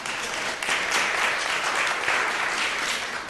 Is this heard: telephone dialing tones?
no